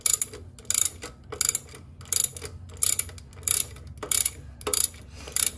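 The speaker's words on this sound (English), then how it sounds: "I want to run this harmonic balancer up onto the crankshaft just by spinning the nut." A ratchet spins a nut to press the harmonic balancer onto the crankshaft of a 1981 C3 Corvette, making short, sharp bursts of clicking in a steady back-and-forth rhythm, close and alone.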